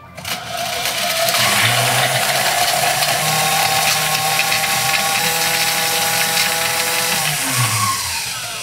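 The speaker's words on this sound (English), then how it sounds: "We're gonna use the Hamilton Beach mixer over here, and on high, 20 seconds." Hamilton Beach drink mixer running on high to froth a cocktail with egg, a loud continuous motorized whir that spins up, holds steady for several seconds, then winds down.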